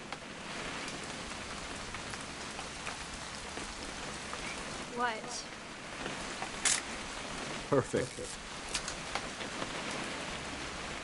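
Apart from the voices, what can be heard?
rain in video game What Remains of Edith Finch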